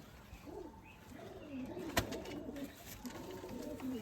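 Pigeons of the Andhar breed cooing nearby in a series of gentle rolling coos, with a faint chirp and a single sharp click partway through, and no speech.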